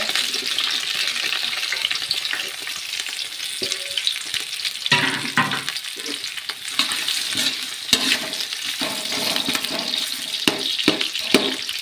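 Onions sizzle and crackle steadily in a hot pan for chicken biryani, with occasional stirring scrapes and no talking.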